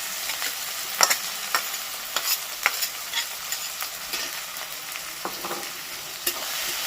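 Fried onion and tomato sizzle steadily in a pan while a spoon scrapes and stirs them in quick, irregular strokes, close and fairly loud.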